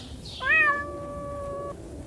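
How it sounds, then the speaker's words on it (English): A kitten gives one drawn-out, high, clear meow up close, holding steady for over a second and then stopping. "Kitten,"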